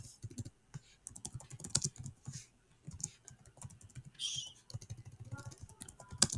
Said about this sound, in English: I'm typing everywhere.